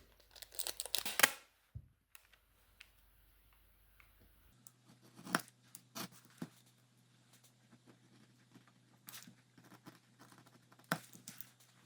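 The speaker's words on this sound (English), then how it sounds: "What I like to do is to take my pattern and use some tape to put it on the leather." Tape is pulled and pressed onto a paper pattern laid on leather, heard as a quick tearing rip followed by soft crinkles and light taps spread through a quiet room.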